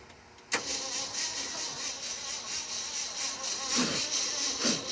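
A Ford Ranger's engine cranks over continuously with a buzzing, whirring drone, close by, with no talking.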